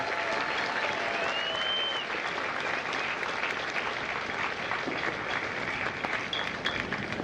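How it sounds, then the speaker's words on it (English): A large audience at a Marine Corps Recruit Depot San Diego graduation ceremony applauding the drill instructors, with dense, sustained clapping from a big crowd that holds steady throughout. "a round of applause for the Marines that make Marines"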